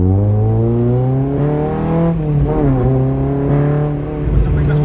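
An all-motor Honda K20 Type R making over 200 hp screams through a full-throttle pull heard from inside the car, pitch climbing steadily, dipping briefly at a shift, then rising again, loud and close.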